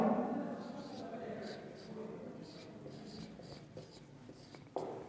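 Writing on a board during an English lesson, soft scratchy strokes in short bursts alongside a voice at the start and a low room tone.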